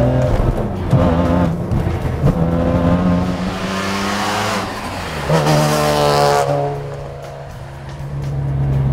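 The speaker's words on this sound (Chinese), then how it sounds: "现在差不多是2700转，然后把油门踩下" A supercharged BMW E46 M3 engine accelerates hard from about 2700 rpm, its loud, close engine note climbing steadily with a rising supercharger whine before it eases off.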